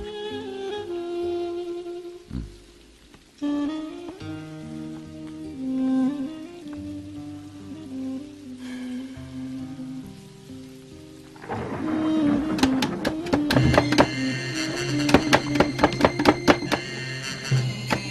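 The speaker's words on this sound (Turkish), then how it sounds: "sanki gök delinmiş gibi yağıyor." Heavy rain pouring down with rumbling thunder, growing louder and denser toward the end alongside tonal musical sounds.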